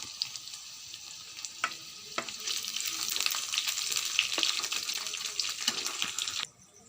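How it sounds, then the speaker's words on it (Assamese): Chopped green chillies go into hot frying oil with a steady, close sizzle and a few sharp crackles and pops, in a home kitchen, with no talking. "এতিয়া জলকীয়া, কাটি লোৱা জলকীয়াখিনি দি দিম।"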